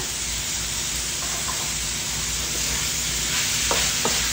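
Leftover fried fish stirred with egg and bitter melon (ampalaya) in a hot pan: a steady loud sizzle and hiss, with a few soft clinks of the utensil near the end, close up and without talk.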